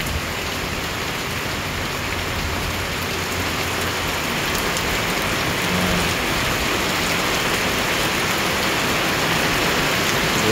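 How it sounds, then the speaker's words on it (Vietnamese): Heavy morning downpour falls as a loud, dense, continuous hiss of rain on surfaces, steady throughout with no voices. "Mưa tầm tã luôn."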